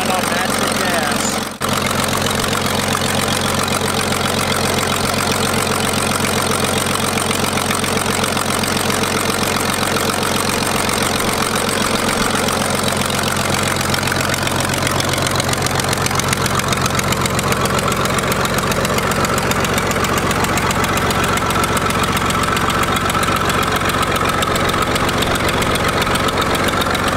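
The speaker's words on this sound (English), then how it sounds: "It's an old motor from an old tractor. Run on natural gas." An old 1940s-era Minneapolis tractor engine running on natural gas idles close by, a steady loud rumble with an even mechanical chug that holds throughout with little change.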